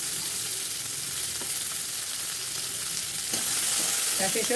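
Curry leaves crackle and sizzle steadily in hot oil up close while tempering for sambar, with a few soft stirring clinks near the end.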